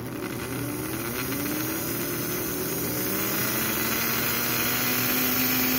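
American Flyer 080 switcher model train motor, freshly rebuilt with new brushes, running alone as a steady close electric whir and hum whose pitch slowly rises as it speeds up.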